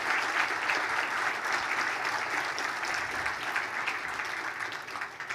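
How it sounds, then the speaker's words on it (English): Steady, dense applause from an audience at a sports hall of fame induction dinner, continuous and even throughout with no gaps, like a full room clapping together. "please stand and receive, please, a much-deserved round of applause"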